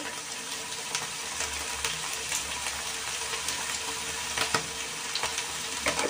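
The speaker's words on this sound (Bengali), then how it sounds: "নুনটা দিয়ে ভেজে নেব" Spices with salt and turmeric fry in a pan for a Bengali chicken dish, producing a continuous moderate sizzle with occasional scraping stirs and a few light clinks.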